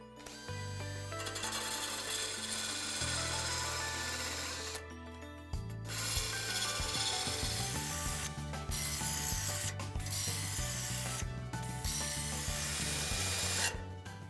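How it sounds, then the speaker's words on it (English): A beveled bench grinding wheel sharpens a lawn mower blade along its edge, giving a loud, continuous abrasive grinding hiss broken by several brief pauses as the blade is repositioned. "allow the beveled grinding wheel to follow along the contour of the bevel on the blade itself"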